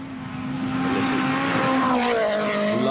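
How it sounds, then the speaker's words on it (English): A WRC rally car on the Monument power stage of Wales Rally GB 2011 snarls past, its engine note climbing and shifting as it accelerates, loud and continuous against the open stage. "Love the sound of this car."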